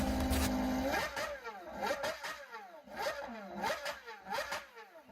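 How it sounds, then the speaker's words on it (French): A Gordon Murray T50 V12 with catalysts and silencers removed revs repeatedly, sharp rising blips and drops in quick succession, loud and close with no voices. "fait monter une ligne d'échappement sur laquelle il a supprimé tous les catalyseurs et tous les silencieux pour obtenir un son somptueux du"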